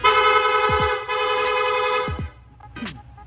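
A loud rapid horn on a Yamaha Sniper 155 motorcycle blares in rapid, steady bursts, cutting out briefly and stopping, followed by a short higher beep near the end.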